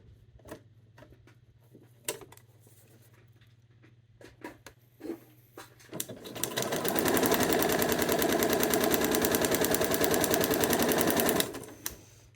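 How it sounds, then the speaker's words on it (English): A sewing machine stitches a quilt seam between fabrics at a short stitch length: a few light clicks and handling noises first, then a rapid, loud, steady whirring run of about five seconds that stops abruptly. "I'm going to sew between 1 and 2 on that line right there"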